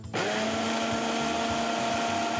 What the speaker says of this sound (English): here's a quick trick to clean the blender. Fill it with water, add a drop of dish soap and run it for a few seconds.